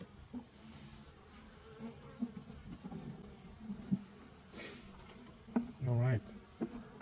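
Honeybees buzzing around an open beehive during an early summer inspection, a soft hum with a few bees passing close by, under quiet talking.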